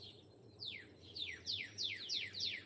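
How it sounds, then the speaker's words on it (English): Birds chirp at sunrise in a quick series of about six bright, descending tweets, clear against a faint low background hum. "Birds are happy today."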